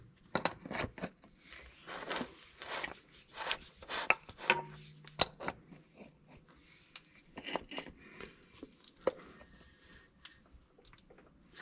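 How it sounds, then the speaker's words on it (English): A canister is screwed back onto a John Deere 4840 tractor, giving close, quiet scraping and rubbing scrapes in irregular bursts with small metallic clinks. "Just take and screw this canister as well. Same thing, right back in there and tighten him up."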